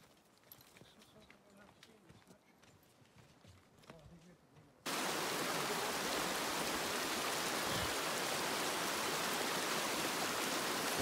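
Creek water rushes loud and steady at a backcountry crossing on Palliser Pass, Great Divide Trail, surging in at full strength partway through after quieter outdoor sounds with faint talk.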